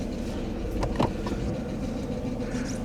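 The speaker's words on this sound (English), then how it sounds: "Let the engine run for a minute." A Mercedes coupe engine idles with a steady low rumble, a couple of faint clicks over the top, no talking.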